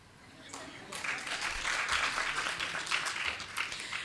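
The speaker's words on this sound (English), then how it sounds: "I thought you guys would clap." Scattered applause from a seated audience at a business supplier forum swells gradually and keeps up in a moderate, steady patter, fairly faint and a little distant.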